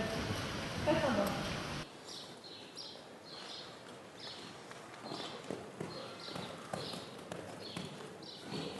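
Horse hooves clip-clopping in a steady walking rhythm during a riding lesson, moderately close, with a brief burst of speech and noise at the start before the footfalls continue alone.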